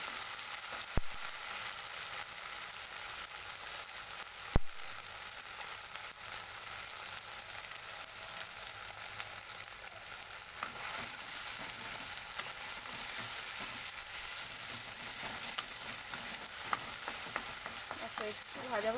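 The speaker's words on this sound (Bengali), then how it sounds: "একটু ভাজা ভাজা করে নেব।" Pointed gourd (potol) frying in oil in a pan, a steady close sizzle running throughout with a few brief clicks of a utensil and no talking.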